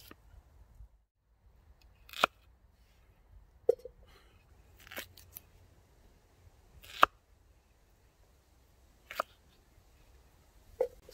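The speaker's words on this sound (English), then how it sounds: "I'm going to chop up these potatoes." Potatoes being chopped with a knife at an outdoor campfire cooking setup, a handful of sharp, separate cuts spaced a second or two apart against near silence.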